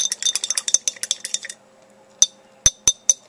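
Carbon nitride powder being stirred into acetone in a glass jar, with a quick run of light clinks followed by a few sharper, separate taps of a utensil against the glass, close and clear.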